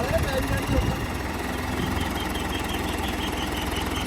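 A three-cylinder farm tractor engine runs at a steady idle with an even, throbbing knock, continuous and close, with a brief louder moment at the start.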